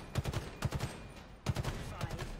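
Battle Rifle bursts firing in Halo Infinite during a weapon drill, two sets of rapid three-round volleys with sharp cracks, loud and close, no talk.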